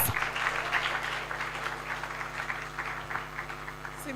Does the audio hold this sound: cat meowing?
no